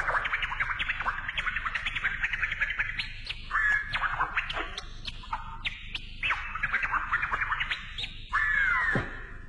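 DJ chirp scratches on a vinyl record, quick rhythmic chirping bursts that rise and fall in pitch like bird calls, repeating closely over a steady low background.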